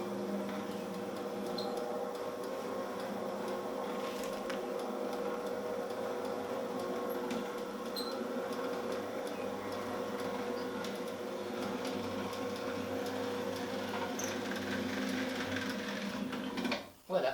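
An electric roller shutter closes with a steady motor hum and faint mechanical whir that runs evenly for well over a quarter minute, then ends with a brief knock as it stops.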